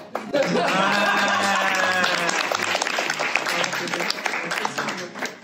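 Audience applause at a Japan Expo conference on free VTuber software, with dense steady clapping, scattered laughter and a voice talking over it throughout.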